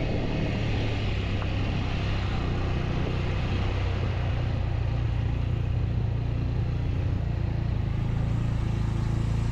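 Car driven along a rough off-road stretch on a ride from Mahad to Thane, a continuous low engine rumble and road noise, close and steady, with no talk.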